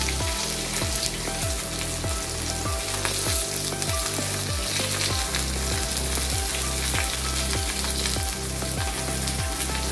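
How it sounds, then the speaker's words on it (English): Pieces of pomfret fish fry in a pan with a loud, dense, continuous sizzle and crackle that runs the whole way through, with no talking over it. "I'll fry all the pieces and I'll see you in a while."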